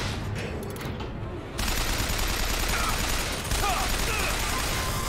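Heavy-recoil gunfire in the shooter Bioshock Infinite pours out as a dense, continuous roar of rapid shots, loud and unbroken, briefly easing then swelling again.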